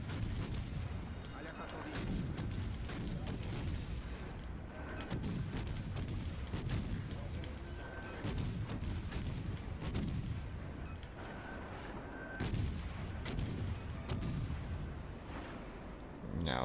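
Naval guns firing in World of Warships Legends from the French destroyer Guépard, with repeated heavy booms spaced a second or two apart over a constant low engine and sea rumble, under speech.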